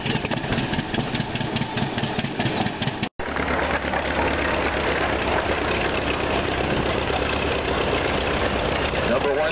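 A 1918 Cross Waters vintage tractor engine, 20 drawbar and 30 belt horsepower, runs steadily at idle at a logging and threshing show with a low, thumping rumble throughout, briefly cut once near the start, heard close and loud.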